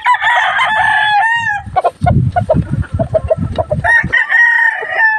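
A rooster crows loudly up close in a small chicken coop, then hens cluck in busy, uneven bursts before the crowing starts again.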